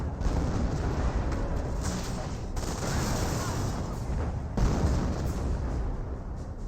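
25-pounder artillery shells landing in Company of Heroes, a steady wash of distant booms and battlefield rumble, moderately loud, no talking.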